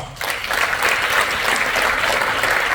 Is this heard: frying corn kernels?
no